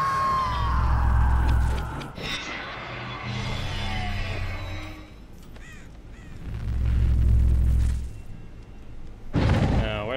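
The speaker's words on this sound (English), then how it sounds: "We'll hear either Steve or the Kate scream." A survivor, Steve or Kate, screams while being hooked in the Dead by Daylight video game. Loud shrill cries come in two bursts over deep rumbling booms, with a short sharp cry near the end.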